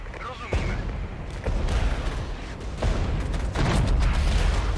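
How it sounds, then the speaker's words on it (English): Mortar counter-battery fire in the Regiments Cold War strategy game, a continuous rumble of repeated booms and impacts, several louder blasts punctuating a dense, loud battle din. "Ooh, counter artillery. That seems to be mortars."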